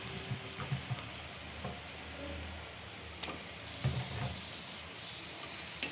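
Snakehead fish frying in a pan of oil spiced with ginger, garlic and masala, giving a steady broadband sizzle with a few soft clinks and stirring knocks throughout.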